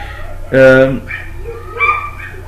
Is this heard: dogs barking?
yes